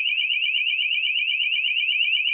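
A motion sensor alarm sounds a loud, continuous high-pitched warbling tone that holds steady throughout with nothing else around it.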